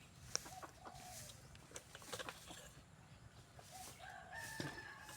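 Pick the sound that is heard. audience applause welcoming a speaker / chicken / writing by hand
chicken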